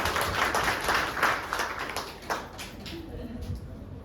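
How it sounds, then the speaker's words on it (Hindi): A seminar audience breaks into loud, dense clapping that carries on and thins slightly toward the end, with some voices mixed in. "बराबर जोरदार तालियां।"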